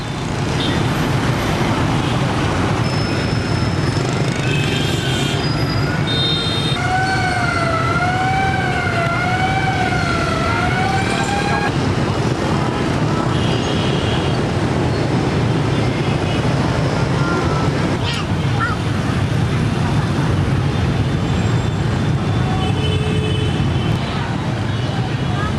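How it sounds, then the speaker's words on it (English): Dense motorbike and road traffic fills a busy Ho Chi Minh City street, a steady loud roar with horns and a wailing siren passing through, with no break in the din. "More motorcycle madness."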